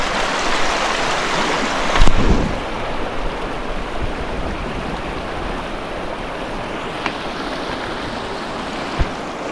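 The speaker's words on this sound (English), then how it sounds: "Nice little river view." A small river flows steadily with a broad, continuous rushing wash of water, close and fairly loud, with a brief knock near the start and a couple of faint clicks later.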